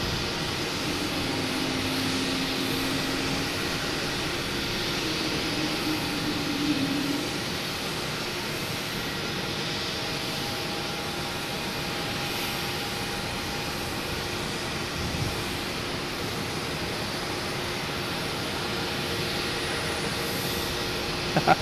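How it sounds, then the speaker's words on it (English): Virgin Atlantic jet arriving from Heathrow at Boston Logan, a steady broad engine roar holding at moderate distance throughout with no talk. "we have an arrival. Virgin Atlantic coming in from Heathrow"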